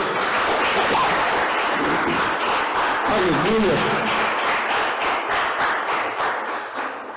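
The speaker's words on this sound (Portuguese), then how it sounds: "Vamos aplaudir nosso Deus." A church congregation applauds its God during a worship service, steady dense clapping filling the room while a preacher speaks over it and a voice calls out in praise.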